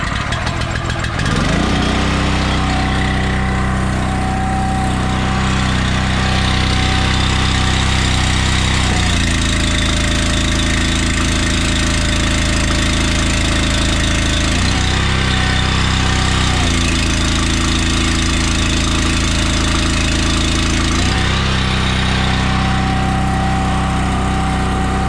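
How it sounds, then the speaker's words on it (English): A Honda 340 pull-start engine on an Eastonmade 916 log splitter runs continuously up close, a loud steady chugging drone that shifts pitch and load a few times as the hydraulics work. "This is our 916, and it has a 340 Honda on it."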